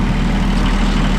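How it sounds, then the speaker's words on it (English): A tractor engine idles with a loud, steady low rumble and throb for a brief moment during property maintenance work. "Get this tractor loaded up"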